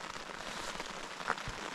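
Steady rain patters on a tent or nearby surfaces during a dark, foggy wild camp at the Wheelstones on Derwent Edge in the Peak District, a close, continuous hiss with occasional louder drops.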